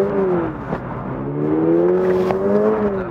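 A Toyota GR86 boxer engine on a rear-drive manual car climbs in pitch as it accelerates around a circuit. The whine is steady and close, with no voices.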